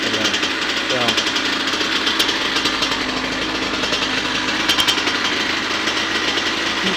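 A 2000 Kawasaki KX80 two-stroke dirt bike with recent engine work runs loud and close, its rapid, rattling buzz holding steady with brief revs, and voices faintly underneath.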